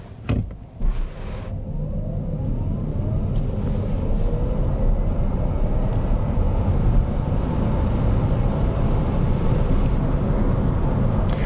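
A Renault 5 electric car on 18-inch winter tires accelerating hard in sport mode, with a steady, loud rising road and motor rumble that builds after a brief thump at the start.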